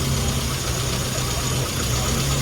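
Car engine idling steadily at close range during a timing tuning demonstration at a classic car run, a continuous loud low rumble with a faint knocking undertone and no talk.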